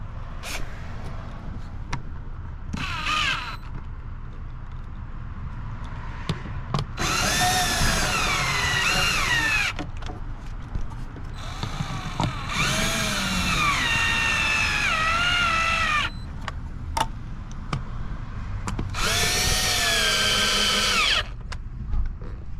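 Power driver with an 8mm socket tightening a headlight clamp on a Jeep JL or Gladiator, loud whirring bursts of two to four seconds with pitch sweeps, separated by quieter pauses and short clicks.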